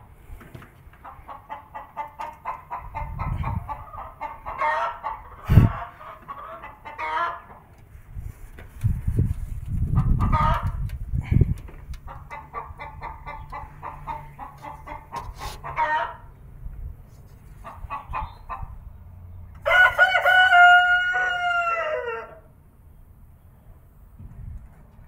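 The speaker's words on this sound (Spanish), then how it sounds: "Y ahí se oye como ya está poniendo una gallina" Hens in a farmyard cluck repeatedly in bursts while one lays an egg, with a rooster crowing loudly near the end; the sounds are fairly close and carry over low background noise.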